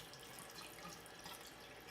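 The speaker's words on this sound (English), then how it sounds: "I'm going to rinse this, but I'm going to let it face down." Tap water runs steadily from a bathroom faucet over a makeup brush held face down for rinsing, a continuous soft splashing hiss throughout, fairly faint and close, with no talking.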